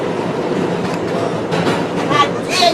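Train rolling along rails, a steady rumbling ride noise with faint rhythmic clatter and a brief high wheel squeal near the end, running continuously under the carriage.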